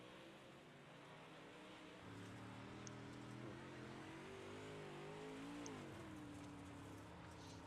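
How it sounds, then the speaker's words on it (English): A race car engine at an Outlaw Racing League oval race drones steadily at a distance, its pitch rising and falling as the throttle is worked, with no one speaking. "You can hear how Dylan Hauser is working the throttle now"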